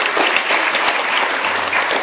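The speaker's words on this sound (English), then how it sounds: "Please give a hand of applause to Cecil Castellucci." An audience at a San Diego Comic-Con 2016 science fiction panel claps in a dense, sustained round of applause that fills the room, loud and continuous.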